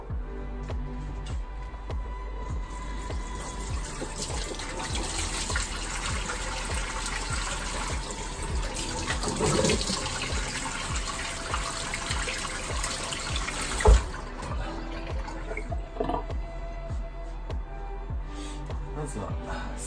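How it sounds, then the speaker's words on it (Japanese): Tap water runs steadily at close range while someone washes their face in a morning routine. The gushing is continuous and fairly loud, with small splashes, and drops off near the end. "顔はもう水で洗う、朝は水で洗うぐらいで"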